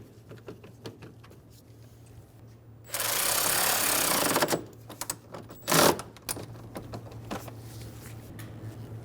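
A ratchet snugging a bolt beneath the radiator hose of a 2005-2015 Toyota Tacoma 2.7L four-cylinder, heard as two bursts of rapid, dense clicking, the first long and the second short, against a quiet background.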